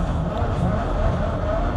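Racing game car engine held under a steady, loud drone as the throttle is tapped through a corner, a continuous close motor tone with no clear rev peaks, no voices.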